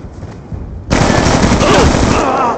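Sustained machine gun fire in the Black Ops II video game, a loud, dense rattling burst that begins abruptly after a short quieter stretch and keeps going without pause, with a player's voice over it.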